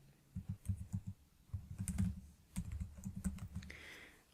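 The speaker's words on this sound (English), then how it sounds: "if I can type it" Quick typing on a computer keyboard, irregular bursts of soft key clicks close to the microphone in a quiet room, with short pauses between runs of keystrokes.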